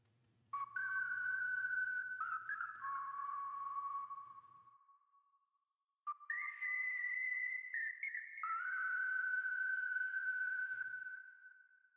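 Someone whistles a slow melody of sustained, pure notes in two phrases separated by a brief pause, clear and close with no talking.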